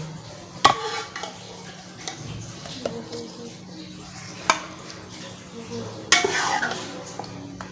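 Mixed vegetable curry of peas, carrot, cauliflower and potato is scooped out of a pan with a metal spoon, giving sharp clanks and scrapes at irregular intervals over a faint background sizzle.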